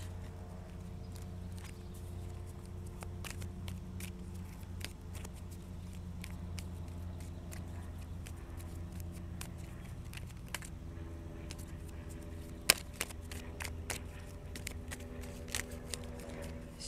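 Quiet, soft riffling and light tapping of tarot cards being shuffled, repeated faint clicks over a low steady background hum.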